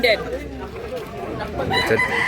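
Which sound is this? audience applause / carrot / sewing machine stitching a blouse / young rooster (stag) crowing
young rooster (stag) crowing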